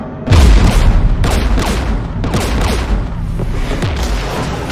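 Gunfire and explosions from a Mass Effect 3 battle. Loud booms hit repeatedly over a dense bed of rattling weapon fire, with no voices.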